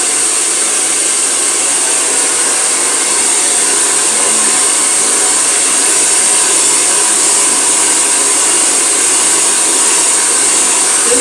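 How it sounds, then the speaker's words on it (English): A hair dryer blowing on a section of hair, a steady loud whirring hiss held without a break from start to finish, close to the microphone, no voices. "the part that I'm currently blow drying"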